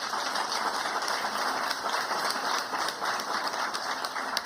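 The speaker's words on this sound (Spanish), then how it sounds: "por eso quiero que le demos un fuerte aplauso" Audience applause for the vice president Francia Márquez at a meeting with the World Trade Organization, a steady dense wash of clapping lasting throughout at moderate level with no voices over it.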